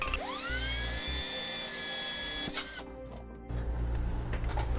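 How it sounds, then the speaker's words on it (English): A power drill bores holes in the frame of a 2015 Tiffin Allegro motorhome for mounting SumoSprings helper springs, its whining motor running loud and steady for several seconds, then cutting off and restarting more roughly. "We'll be drilling holes there and also putting in the same hardware."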